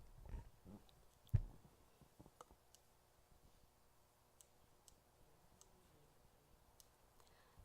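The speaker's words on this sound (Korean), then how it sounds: "제가 이거 마이크를 잠깐 바꿔볼게요." A microphone is swapped and handled at a church revival meeting, giving a couple of low thumps and bumps near the start followed by sparse, faint clicks and ticks in a quiet room.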